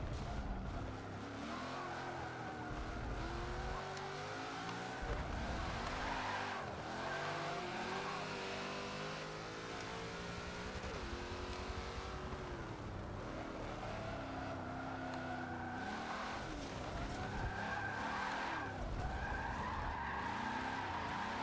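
Saleen S7 skidding and drifting in Forza 7, with continuous tire squeal and a revving engine that rise and fall for over twenty seconds, loud and close, with no talk.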